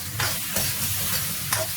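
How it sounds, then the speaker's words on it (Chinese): Pork belly slices with ginger and garlic slices fry over medium heat in a wok, giving a steady close sizzle broken by a few sharp scraping bursts of stirring, with no talking. "把五花肉煎到金黄色"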